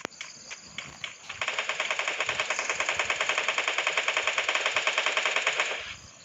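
Rapid automatic gunfire from the mobile shooter game Free Fire, a few separate shots and then a long, steady burst of fast, evenly spaced rounds lasting several seconds, loud and close, with no talking over it.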